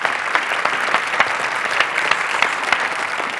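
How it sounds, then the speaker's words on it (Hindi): A studio audience at a television game show applauds to welcome actress Deepshikha, a dense, steady wash of clapping that holds at an even level throughout with no pauses. "तो मैं दूसरे राउंड को खिलवाने के लिए आमंत्रित करने जा रहा हूं सुप्रसिद्ध अभिनेत्री सुश्री दीप शिखा को। जोरदार तालियों के साथ"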